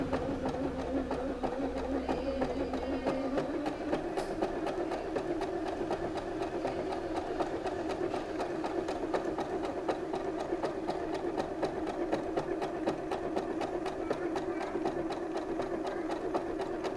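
An Usha Dream Maker 120 embroidery machine stitching a pattern gives a steady, fast mechanical whir with a continuous rapid ticking rhythm, close and moderately loud throughout, with no talking.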